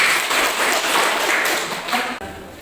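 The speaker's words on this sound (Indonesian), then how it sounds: "Tepuk tangan untuk kalian semua." Classroom applause for students in a lesson on non-renewable energy, a steady burst of clapping from a group that holds for about two seconds and then drops off quickly.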